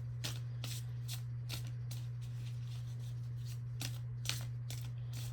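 Oracle cards shuffled by hand, a series of quick papery riffling bursts repeating at an uneven rhythm over a low steady hum, close and quiet.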